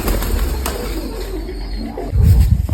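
Pigeons in a loft in Mykolaiv, Ukraine, give low, soft coos under a steady background, with a louder burst of close, rumbling cooing near the end.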